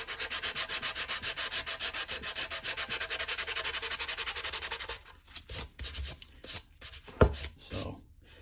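Sandpaper rubbing back and forth over a J-B Weld SteelStik epoxy repair on a broken Santa Claus figure, a fast regular scratching rhythm up close that turns into slower, scattered strokes and taps.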